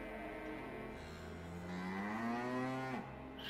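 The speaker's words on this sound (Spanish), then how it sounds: "La vaca, el toro ese." Cow or bull in SaGa Emerald Beyond on PS5 gives one long, low moo that rises in pitch and cuts off sharply, steady and fairly close with no talk.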